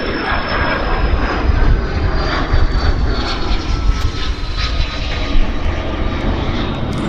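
WestJet airliner on flight 112 to Calgary at Vancouver airport, its engines giving a loud, continuous roar and whine that hold steady throughout, heard up close.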